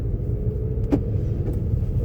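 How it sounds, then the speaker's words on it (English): An Audi A3 8P drives smoothly down the road, heard from inside the cabin as a steady low rumble of engine and tyres, with a couple of faint clicks partway through. "This is a very, very smooth driving car."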